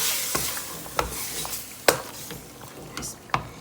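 Tomatoes and meat sizzle in a pot for an Eid stew, with a steady frying hiss broken by sharp scrapes and clinks as the mixture is stirred.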